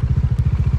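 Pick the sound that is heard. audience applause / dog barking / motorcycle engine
motorcycle engine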